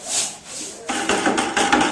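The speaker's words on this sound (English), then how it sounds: "Same crosshatch pattern, letting the tray work ahead of us, and applying my LimeWash." A brush loaded with American Clay LimeWash scrapes across a wall in a crosshatch pattern, a close, dry rubbing and swishing that is quiet at first and then comes in several stronger strokes.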